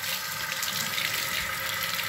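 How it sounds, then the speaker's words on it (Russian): Warm water rushes under pressure from a tap at a dacha, a steady, fairly loud splashing hiss that continues evenly without talk. "через краник под давлением она вытекает"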